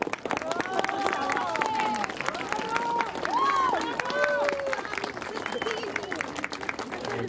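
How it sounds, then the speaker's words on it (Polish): A crowd at a One Billion Rising gathering bursts into dense, continuous clapping, with voices calling and cheering loudly over it throughout. "Tutaj podziękowania i wielkie brawa należą się przede wszystkim dla pani Edyty"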